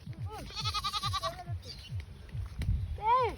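A goat bleats in a quavering, wavering call near the start, followed by another rising bleat at the end, with faint voices and rumbling between.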